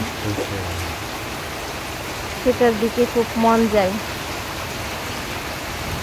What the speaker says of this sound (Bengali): তো এখন বৃষ্টি শুরু হয়ে গেছে।